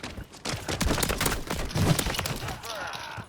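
Shotgun fire in Call of Duty MW3 Warzone, several quick booming blasts in a burst with clattering game effects, followed by a rising whoosh as the shooting stops.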